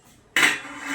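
A metal lid set onto a pot of water heating on a gas stove, giving one sharp clatter followed by a brief ringing metallic wash and quiet kitchen background.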